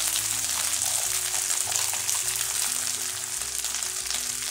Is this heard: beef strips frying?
yes